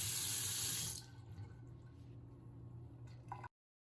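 Water rushes strongly from a newly installed touchless bathroom faucet into the sink, then quietens to a softer trickle with faint drips before stopping abruptly.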